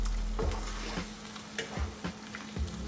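Lamb marinated in yogurt fries in a pan for a Sindhi lamb dish, a soft steady sizzle broken by several rhythmic stirring scrapes and taps about every half second, fairly quiet and without speech.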